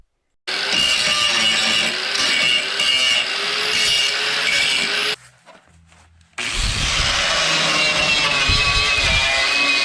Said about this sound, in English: And now we're just simply taking the wire wheel in a grinder and cleaning the flux off where we had welded that panel on